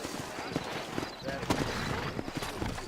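Horse hooves clip-clop in a quick, uneven rhythm in the Western video game Red Dead Redemption, heard under speech and ambient town noise.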